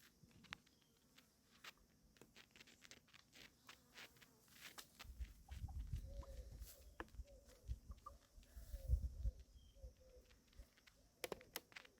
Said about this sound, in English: I love that noise. It's the sign of a contented hen.